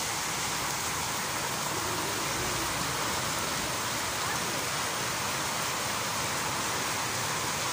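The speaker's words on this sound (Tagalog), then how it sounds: "Lakas ng ulan pa naman." Heavy rain pours down in a dense, unbroken roar. The hiss stays loud and even from start to finish, with no voices standing out.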